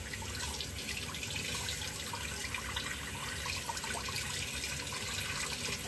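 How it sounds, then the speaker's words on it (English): Water from a tap pours steadily over a brass double-edge safety razor at a sink, a constant close rushing wash with faint splashes and no talk. "if you run it under hot water, which is what I do"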